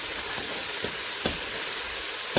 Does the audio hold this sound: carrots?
yes